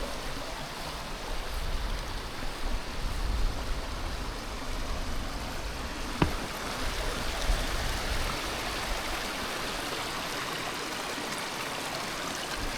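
A river flows steadily along a bush hiking track, its broadband rush and gurgle continuing evenly throughout with no talking.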